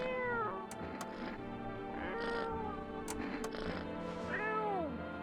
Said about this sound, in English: the cat doesn't like me picking him up